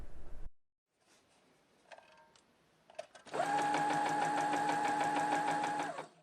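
A sewing machine stitches denim in a fast, even run of rapid mechanical clicks and whirring lasting a few seconds, preceded by a few quieter handling clicks and taps; fairly close and clear.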